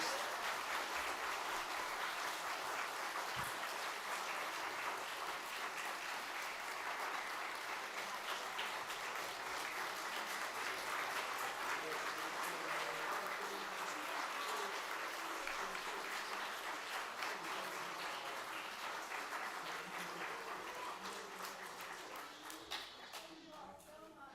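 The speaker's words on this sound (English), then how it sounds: "the biggest round of applause at all for Miss Joy" Sustained applause from a crowd at a 50th anniversary celebration honoring a longtime community member, a dense steady wash of many hands clapping that holds evenly before tapering off near the end.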